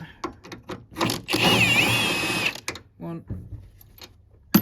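A Milwaukee power drill driving engine mount bolts on a Ford Fiesta EcoBoost, a sustained whirring burst of about a second close by, with short tool bursts and a man counting before and after.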